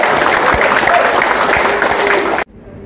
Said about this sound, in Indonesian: Tepuk tangan lagi teman-teman.